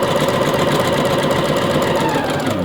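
A sewing machine stitching an elastic waistband runs in a steady rapid mechanical whir, close and continuous throughout with no talking.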